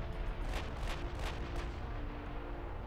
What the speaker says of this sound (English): This is Oklahoma's last salvo.